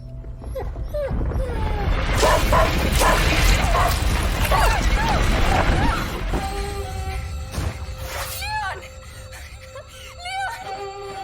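A dog in the video game A Plague Tale: Innocence gives sharp barks and whimpering cries amid a dense rumbling, clattering game soundscape, which thins out to a quieter drone where the high yelps continue, with some talk.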